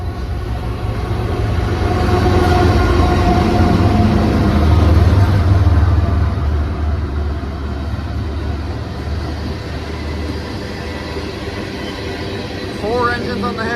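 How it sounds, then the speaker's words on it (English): A westbound Norfolk Southern freight with four locomotives led by NS 8102, the Pennsylvania Railroad heritage unit, rumbles past with a deep, steady engine drone that swells to a peak and then eases as the cars roll by. "Four engines on the head end with NS 8102, the Pennsylvania Railroad Heritage Unit."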